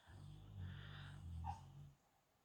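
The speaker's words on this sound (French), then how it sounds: "le petit bruit que vous entendez derrière, c'est mon chien qui est en train de rêver" A sleeping dog makes soft dreaming noises, low muffled grumbles and whimpers in two or three short bursts with a faint higher whine, heard quietly and up close in an indoor room.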